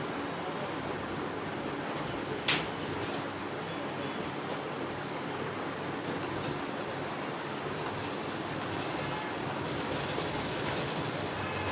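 A sewing machine stitches cloth with a steady, continuous mechanical whir at close range, broken once by a brief sharp click.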